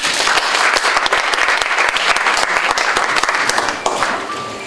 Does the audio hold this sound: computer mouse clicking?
no